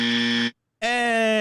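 Two loud electronic buzzes sound in quick succession, a steady harsh tone that cuts off briefly and comes back higher and richer, close and with no talk over them.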